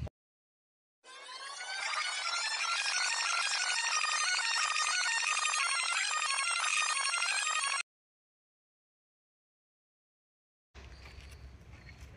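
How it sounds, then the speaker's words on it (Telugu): A phone rings with a bright, steady ringtone that lasts about seven seconds, then stops abruptly. Silence follows, and a brief different sound comes in at the end. "ఫోన్ వస్తుందిరా"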